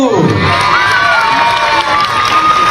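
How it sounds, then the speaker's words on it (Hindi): A crowd at a Chherchhera festival event in a Chhattisgarh village cheers loudly, with children shouting and whooping throughout, a steady dense roar that holds for the whole stretch. "जोरदार ताली ले बजाहू।"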